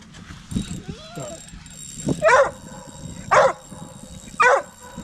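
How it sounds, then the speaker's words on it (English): Three short, sharp dog barks spaced about a second apart, rising above soft background chatter and rustling. "The dogs are getting excited."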